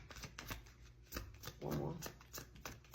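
Tarot cards are shuffled close by in a quick run of riffling flutters and soft slaps, with one longer riffle in the middle and a voice talking quietly underneath.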